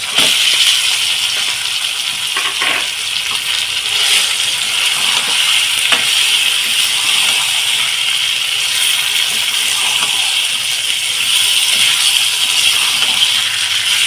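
Marinated chicken fries in spiced oil with onion and capsicum, giving a loud, continuous close sizzle and crackle that runs unbroken throughout.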